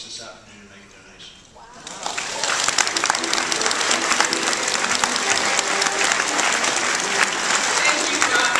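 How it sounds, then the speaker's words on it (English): Applause breaks out after a quiet moment at an awards event and continues steadily, a room full of people clapping loudly and evenly for several seconds. "We have one more round of applause for all of them."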